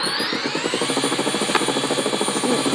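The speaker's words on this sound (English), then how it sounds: "Luckily, there's this helicopter here I can take to get to the shelter." Helicopter rotor in a video game during a nuclear-blast emergency scenario, a steady loud whine with rapid rhythmic chopping thumps throughout, close and alone.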